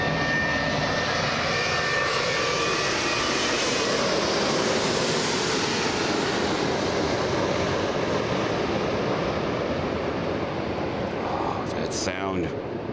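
A Virgin Atlantic airliner at Los Angeles International Airport (LAX) roars with a loud, sustained jet-engine rush that swells slightly and holds for the whole stretch.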